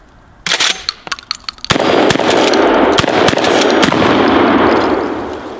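A double-barrel pump shotgun firing hot rounds outdoors: a few sharp clicks and handling noises, then a loud close blast with a long rolling echo that fades slowly.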